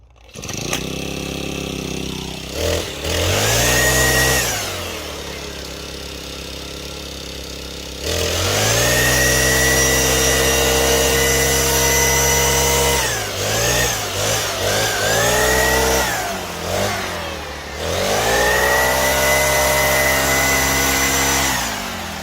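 A small engine-powered brush cutter, a multi-tool fitted with swappable parts, idles and revs up repeatedly, each rise climbing to a loud whining roar before dropping back to a throbbing idle.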